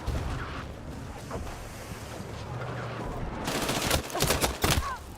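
Gunshots in the shooter Battlefield 6, loud sharp cracks and a rapid burst over rumbling battlefield noise, with talk in the background.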